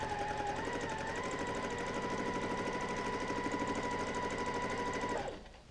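A sewing machine free-motion quilts curved stitches with a fast, steady mechanical chatter for about five seconds and then stops abruptly. The sound is close and continuous, with no talking.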